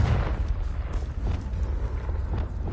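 Confringo fire-spell blasts in Hogwarts Legacy land as several dull, muffled booms over a low rumbling backdrop, moderately loud and irregularly spaced.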